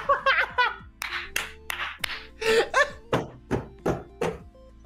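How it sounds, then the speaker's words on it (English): A hand bangs on a table in a quick series of sharp knocks, some clustered and some spaced, close and fairly loud, mixed with laughter. "That was very insightful table banging"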